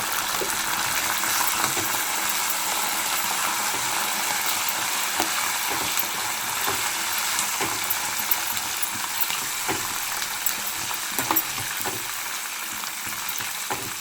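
Green and dry red chillies frying in hot oil for pulihora while being stirred, a loud, continuous close sizzle with scattered scrapes and clicks of the spoon against the pan throughout, no voice.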